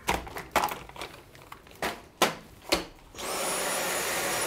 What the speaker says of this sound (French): T'as envie de passer l'aspirateur en fait.